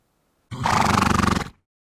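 A horse gives a single loud, close whinny lasting about a second, a shaky, vibrating neigh that starts abruptly and cuts off cleanly into silence.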